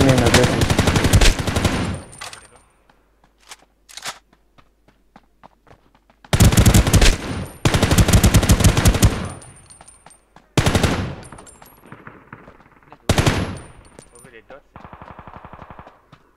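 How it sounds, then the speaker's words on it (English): Rapid automatic gunfire from a cheating player in the battle royale game Ring of Elysium comes in several loud, close bursts separated by quiet gaps, with faint clinking sounds between volleys. "Without even red dot, he's shooting from hip."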